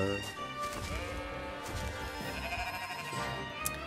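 Several sheep bleat repeatedly in the video game Baldo: The Guardian Owls over a busy musical background, their wavering cries overlapping throughout the short stretch.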